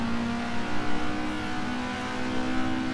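An Alfa Romeo Giulia GTA engine in the Assetto Corsa racing game, holding a steady low-to-mid rev drone with a faint whine, even and continuous with small swells.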